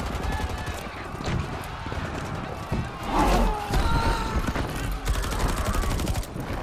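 Bursts of rapid gunfire ring out in the fighting game Mortal Kombat X, dense and continuous against busy game sounds and music, with a voice talking over them.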